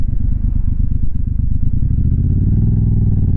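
Motorcycle on the road, engine note dropping as the rider brakes progressively with front and rear brakes, loud and close with a low rumbling pulse that settles into a steadier idle-like hum.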